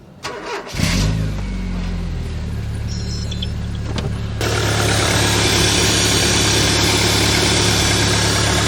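Rover Coupe with a CVT gearbox cranks briefly and fires up, then settles into a steady, loud mid-pitched idle with a noticeable rise in engine roar partway through, heard close with no talking.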